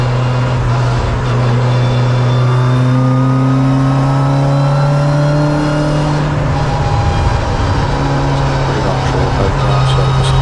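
Tin-top saloon racing cars, including Honda Civics, an Integra and a Renault Clio, accelerate hard at Donington, loud droning engines with rising and shifting pitch as several cars pass close and fade, continuous throughout.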